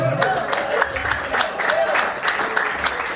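Church congregation applauding in praise during a sermon, a steady clatter of clapping mixed with scattered voices and crowd noise throughout.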